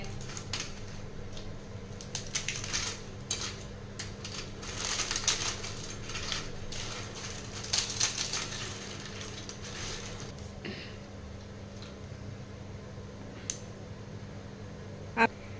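Crispy fried ribbon pakoda is snapped and crushed by hand into pieces, a close series of dry crackling crunches coming in bursts, then tapering off to a few isolated cracks.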